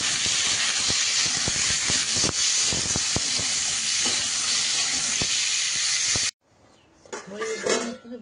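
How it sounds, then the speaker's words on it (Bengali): Onion tempering frying in a kadai, a loud continuous hiss and sizzle with scattered stirring clicks that stops suddenly, followed by quieter background sounds. "কড়াইতে পেঁয়াজ ফোড়ন দিয়ে দিয়েছি, ভাজাও হয়ে গেছে।"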